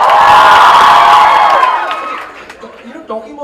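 A college audience at Sophia College cheers loudly as a crowd, with whoops and shouts at full strength that fade away after about two seconds, leaving scattered faint noises.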